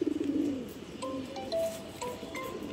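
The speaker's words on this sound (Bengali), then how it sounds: "কবুতরটা কিন্তু অনেক সুন্দর, ভালো একটি কবুতর" A pigeon coos softly nearby, a few low rolling calls followed by brief higher chirps, with no other sounds.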